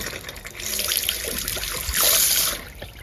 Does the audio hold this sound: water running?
yes